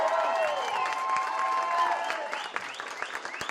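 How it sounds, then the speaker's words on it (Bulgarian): An audience at a school class event in Kazanlak applauds the participants, with crowd clapping and some cheering under tonal sliding sounds, fading into scattered claps. "Аплодисменти за участниците и участничките."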